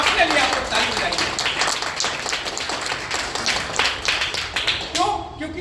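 An audience at a business event in Bhind, Madhya Pradesh, claps together in a sustained round of applause, a dense crackle of many hands that fades out at the end.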